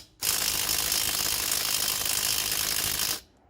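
An impact wrench loosens wheel lug nuts on a Ford Explorer with one loud, close, continuous rattling hammer burst of about three seconds that starts and stops abruptly, with no talk.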